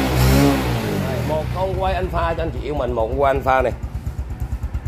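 A used motorcycle on a Vietnamese used-bike sales lot is started and settles into a rapid, even putter near the end, while someone talks loudly over it for most of the time.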